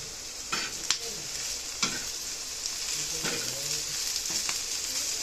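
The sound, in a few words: okra frying in a black iron pan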